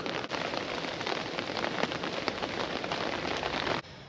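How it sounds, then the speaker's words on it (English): Steady, dense patter of rain drumming on a taut tent overhead, close and continuous, cutting off abruptly near the end. "it's nice to hear the rain fall in the tent"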